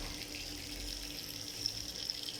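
Running water from a tap, used to clean newborn kittens, flows as a faint, steady hiss with no talking over it.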